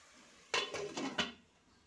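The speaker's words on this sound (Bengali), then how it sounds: "আবারও আমি মশলাটা ভালো করে কষানোর জন্য ঢাকনা দিয়ে ঢেকে দেবো" A lid set onto a cooking pot of spices, a quick cluster of three or four metallic clatters and rattles lasting under a second, close and alone.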